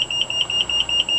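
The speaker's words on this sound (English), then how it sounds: "the warning buzzer continues to sound" An alarm panel's warning buzzer sounds in a steady run of short, shrill, evenly spaced beeps, about five per second, close and alone.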